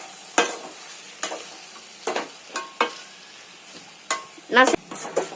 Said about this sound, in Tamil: நல்லா இதை கிண்டிக்கலாம்